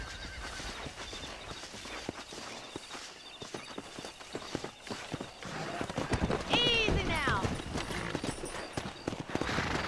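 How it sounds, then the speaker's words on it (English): Horses in Red Dead Redemption clopping and trotting at a steady rhythm, with a loud whinny rising and falling near the middle and voices talking over the hoofbeats. "Let's see if we can't wrangle some horses."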